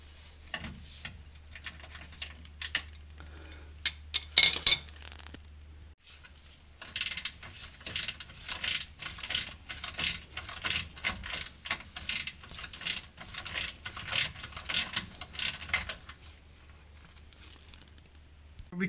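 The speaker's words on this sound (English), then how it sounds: "unless you're really strong, you'll need a breaker bar" Rapid ratcheting clicks from a tool working on a bolt under a 2002 Honda Odyssey, in uneven bursts with brief pauses and a louder clatter early on, over a low steady hum.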